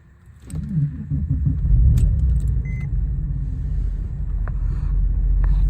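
A 2002 Porsche 911 Carrera 4 Tiptronic S convertible cranks with a brief whirring starter, then its engine catches and settles into a steady, close, loud idle rumble, with faint key-like jingles near the start.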